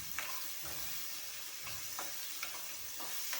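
Tomatoes frying in a pan for a spicy Avrekalu curry, giving a steady low sizzle with soft stirring scrapes every second or so, moderately quiet and with no voices.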